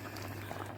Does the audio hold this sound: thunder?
no